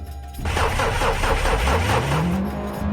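A car engine in a Polish car driving game finally catches after failing to start, a short crank giving way to a sustained running rumble that rises in pitch as it revs, loud and close.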